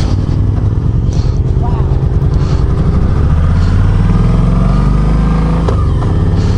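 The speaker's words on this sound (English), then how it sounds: "we are out on a demo ride. This is a Kawasaki Voyager" A Kawasaki Voyager motorcycle on a demo ride, its engine a steady low drone with wind rush. A rider talks over it the whole time.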